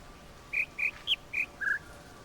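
Bird call in a video game puzzle: five short, clear whistled chirps in an uneven sequence, the last slightly longer and lower, with no talking.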